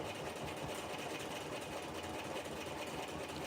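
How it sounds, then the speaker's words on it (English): An embroidery machine stitches out a test design in matte thread on cheap craft fabric, a steady, dense mechanical whir with a fast rhythmic needle chatter running continuously at close range. "We are testing out a design, stitching it out."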